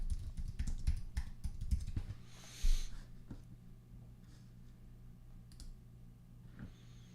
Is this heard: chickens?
no